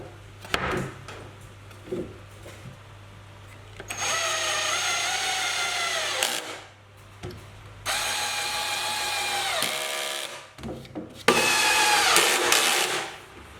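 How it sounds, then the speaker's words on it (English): A drill drives screws into wooden workshop shelving that is being screwed and glued together, in three separate bursts of whirring that rise and fall in pitch, with quiet handling noises between them. "I can now get it together and get it screwed and glued."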